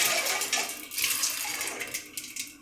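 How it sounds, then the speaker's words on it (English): Cold water runs steadily from a tap into a bowl in a kitchen, a continuous close splashing hiss with slight gurgles, alone without any voices. "I'm getting a bowl of cold water ready to refresh them and stop them from cooking."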